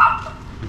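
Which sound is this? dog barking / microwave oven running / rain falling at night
dog barking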